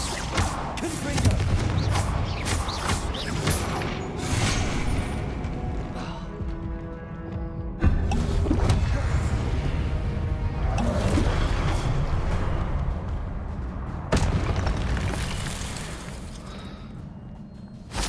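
Fire spell blasts in the Hogwarts Legacy video game burst repeatedly in a spell-heavy fight, with sharp booms and shattering crackles spread across a busy game soundtrack and effects.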